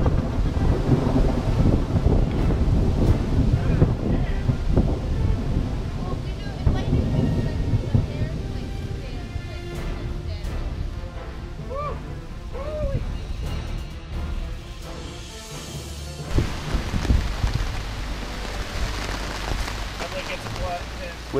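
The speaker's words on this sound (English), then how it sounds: "With the storm here in full force" Wind gusts and rain beat down steadily on an island campsite in Michigan's Upper Peninsula, a rough broadband rush that swells and eases, with brief voices now and then under the storm noise.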